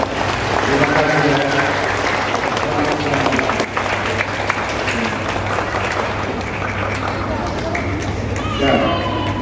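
A church congregation applauds at Palm Sunday Mass, a dense, continuous clapping that fills the space with voices and a low hum running underneath.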